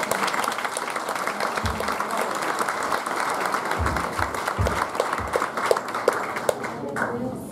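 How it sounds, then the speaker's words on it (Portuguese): A church congregation at a Sunday service claps steadily in dense, continuous applause, with scattered louder claps and low thumps throughout and a voice speaking faintly at moments. "Pode aplaudir o Senhor pela vida."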